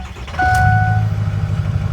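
Truck engine cranking and catching, then settling into a steady close idle with a brief whine as it starts.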